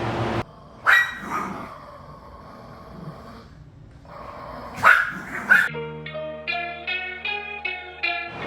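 A dog gives a few loud, sharp barks, one early and a quick pair several seconds later, separated by quiet, before tonal music comes in.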